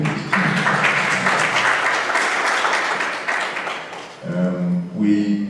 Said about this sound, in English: perhaps we should clap for that